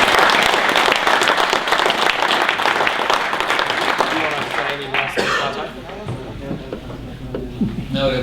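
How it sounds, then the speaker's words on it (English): Audience at a Facebook marketing training session giving a dense round of applause that holds for about five seconds and then fades out, leaving a voice talking over the room. "maybe we should just give them another round of applause too"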